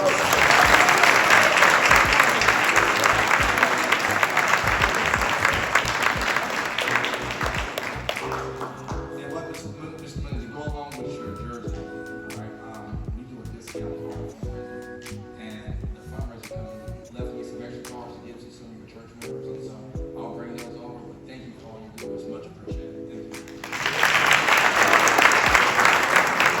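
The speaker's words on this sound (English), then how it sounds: "if we could just give him a round of applause" At a high school football banquet in Northwest Cabarrus, the audience gives the pastor a dense round of applause that tapers into softer scattered claps over clinking tableware and ringing tones, then swells again into loud clapping at the end.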